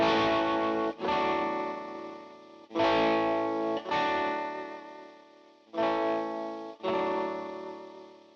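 Bright, clean electric guitar chords through a Fryer Treble Booster Deluxe strummed six times in a loose rhythm, each ringing out and fading before the next, with no voices.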